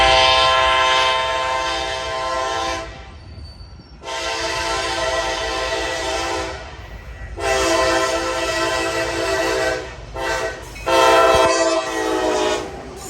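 Freight train rolling through busy rail junctions at Austell, Georgia, with long loud horn blasts sounding in repeated bursts over the steady rumble of the passing cars.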